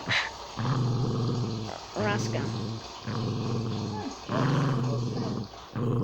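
Dog growling during play in rhythmic bursts, a low rumbling growl repeated about four times close to the listener, with brief pauses between.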